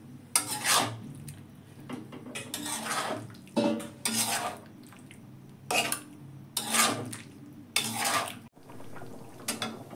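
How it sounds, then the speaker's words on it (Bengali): Cauliflower pieces tossed into a spiced pan and stirred, repeated loud scraping and clattering bursts of a spoon against the pan with short pauses between. "এবার ফুলকপিগুলো দিয়ে দিলাম।"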